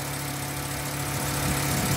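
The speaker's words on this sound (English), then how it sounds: "So warm your engine up." A 2008 Volkswagen Rabbit engine idles while warming up before an oil change, giving a steady, continuous low hum with an even drone and no talk over it.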